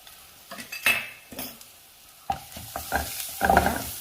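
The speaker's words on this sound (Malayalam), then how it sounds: "ചെറുതീയിൽ വെച്ച് കരിഞ്ഞു പോകാതെ ഒന്ന് വഴന്ന് എടുക്കാം." Cumin, garlic and pepper sautéing over low heat in a pan for rasam, with a soft background sizzle broken by several bursts of a spoon stirring and scraping against the pan.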